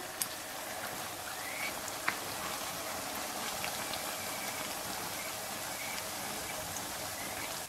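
Dough for youtiao frying in hot oil over medium heat, a steady dense crackle and bubbling hiss that holds even throughout, with a few sharper pops and no voices.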